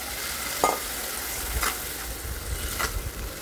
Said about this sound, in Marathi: आता टाकणार आहे शिजवलेले राजमा आणि ते पण छान परतून घ्यायचे